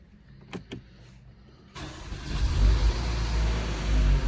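Mercedes-Benz petrol car with an oil pump valve fault: two short clicks, then the engine cranks and catches at about two seconds, settling into a close, steady idle rumble.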